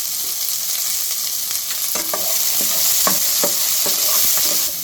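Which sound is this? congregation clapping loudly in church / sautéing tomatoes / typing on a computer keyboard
sautéing tomatoes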